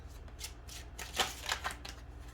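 Tarot cards being shuffled by hand, a run of soft papery riffles and flicks in uneven bursts, close and moderately quiet with low background hum.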